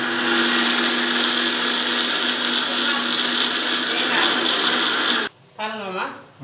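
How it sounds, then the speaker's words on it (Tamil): A mixer grinder whirs loudly and steadily as it grinds ginger, garlic, poppy seeds, mint and fennel, then cuts off abruptly, followed by someone talking. "இதெல்லாம் நைஸா இப்ப அரைச்சுக்கோ மிக்சியில வச்சு அரைச்சுக்கிட்டு"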